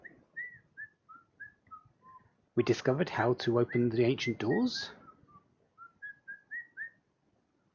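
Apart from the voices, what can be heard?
whistling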